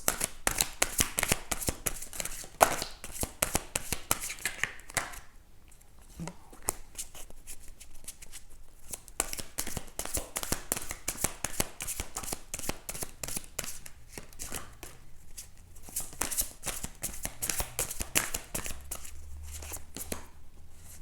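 Oracle cards shuffled by hand close up, in a quick, steady riffle of crisp flicks and slides, with a short lull in the middle before the shuffling resumes.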